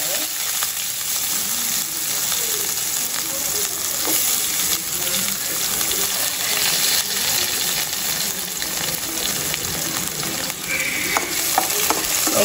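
Onion and cumin sautéing in oil in a pan, a steady close sizzle and frying hiss with occasional stirring scrapes, continuous throughout with no talking.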